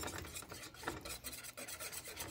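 A spoon scrapes and stirs gumbo ingredients in a pot, a soft, close, repetitive rubbing with no talk.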